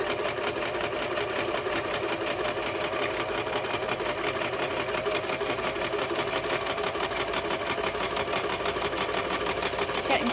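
A sewing machine runs steadily for the whole stretch, stitching upcycled sock fabric along a cut line for a sock monkey toy, with a continuous fast mechanical whir at a close, even level.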